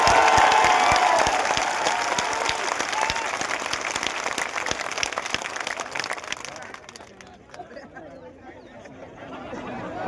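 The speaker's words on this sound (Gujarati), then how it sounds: "તાળીઓ એવી વગાડો છે ગાંધીનગર સુધી સંભળાય" Crowd at a political rally in Tharad clapping loudly and steadily, mixed with crowd chatter, the applause thinning and fading out over the last few seconds.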